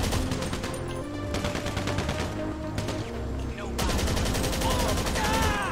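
Rapid gunfire in the video game GTA Online crackles in dense automatic bursts, loud and nearly continuous, with brief shifts in intensity and a short pause mid-way.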